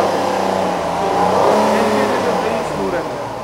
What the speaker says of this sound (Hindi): तो अभी एक्सीलेटर दे रहे हैं अंदर से, काफ़ी फुल एक्सीलेटर दे रहे हैं।